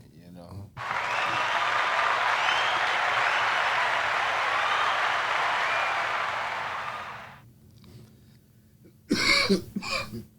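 A canned studio-audience applause effect plays on a podcast, a steady burst of clapping lasting about seven seconds before fading out. Voices talk briefly afterward.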